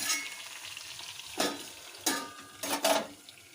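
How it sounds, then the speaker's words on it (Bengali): Potatoes and pointed gourd sautéing in a pan for a fish curry: a soft, steady sizzle broken by a few louder scraping bursts from stirring, close and without voices. "আলু পটলটাকে আগে ভালো করে একটু কষিয়ে নিই"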